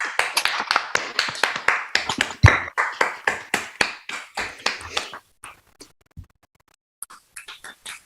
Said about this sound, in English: And maybe one more applause for the board.